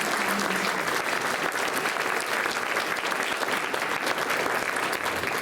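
Concert audience applauding a school jazz band at a spring band concert, an even, sustained roar of many hands clapping at constant loudness for several seconds with no talk over it.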